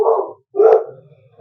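Two loud, close dog barks in quick succession, the second followed by a short fading tail, as a dog reacts to egg whites being beaten.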